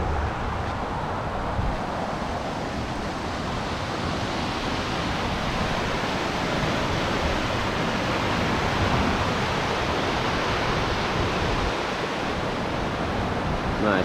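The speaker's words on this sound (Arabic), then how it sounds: "في شلال صغير هنا" A small waterfall in a rain-swollen wadi pours with a steady, dense, broadband rush, continuous and fairly loud with no pauses and no voices.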